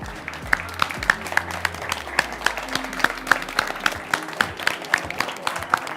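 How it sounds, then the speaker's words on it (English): At a hackathon solution day, an audience applauds the participants coming on stage, with sparse, sharp individual claps and a few loud pops over a low murmur of crowd noise. "Big applause for everybody who participated."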